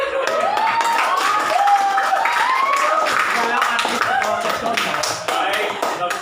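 Classroom applause for students presenting group work: a burst of hand clapping from the class, fairly close and steady throughout, mixed with children's voices and chatter.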